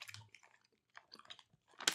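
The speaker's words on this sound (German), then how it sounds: "Jetzt zum Kauen." Close, quiet chewing of Pulmoll gum pastilles: soft wet crunches and bites in irregular bursts with short pauses, ending in a sharper crackle.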